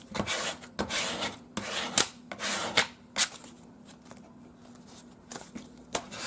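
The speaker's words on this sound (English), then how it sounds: "scraping so that it bonds well." Card scraped firmly across paper so the layers bond, a series of close, dry rasping strokes in uneven bursts with brief pauses between.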